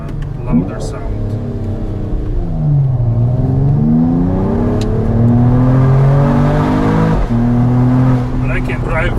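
Engine of a 2022 Mercedes-AMG E53 Cabriolet revving up and down in long sweeps, loud and close, with crackling exhaust pops as the revs fall, and a voice talking over it.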